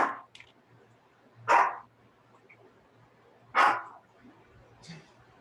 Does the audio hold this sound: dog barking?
yes